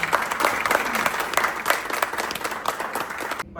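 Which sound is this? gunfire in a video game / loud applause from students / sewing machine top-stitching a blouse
loud applause from students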